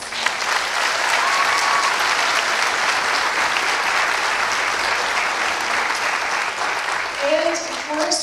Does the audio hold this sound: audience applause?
yes